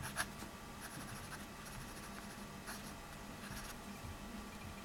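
A Dolce Vita Naranja fountain pen with a rigid medium nib writes across paper, a soft continuous scratch with faint intermittent strokes, close and quiet with no talking.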